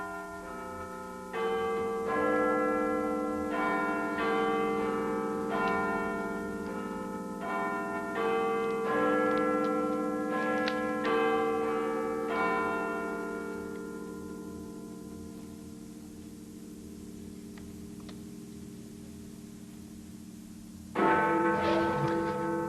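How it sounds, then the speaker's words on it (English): Big Ben's large clock bell chiming the hour on the night the 2005 UK general election polls closed, a series of loud resonant bell strikes with long ringing decay, the chimes sounding alone before a fresh strike near the end. "when Big Ben chimes."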